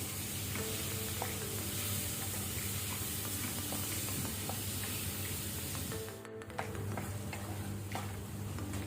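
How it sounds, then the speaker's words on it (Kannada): Tomatoes fry in a pan over a medium flame, giving a close, continuous sizzle with occasional stirring clinks, and a brief dip in the sound partway through. "ಈಗ ನಾವು ಟೊಮೆಟೊವನ್ನು ಸ್ವಲ್ಪ ಫ್ರೈ ಮಾಡ್ಕೊಳ್ಳುವ. ಟೊಮೆಟೊ ಸಾಫ್ಟ್ ಆಗಲಿ ಮೀಡಿಯಂ ಫ್ಲೇಮಲ್ಲಿ."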